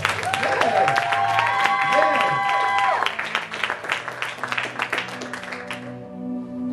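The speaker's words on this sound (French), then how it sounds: "Dans le nom de Jésus, tu peux donner un bon amen et acclamer pour toi-même" A church congregation applauds and cheers during a service, dense clapping with excited voices at full strength before thinning into scattered claps, with musical tones underneath.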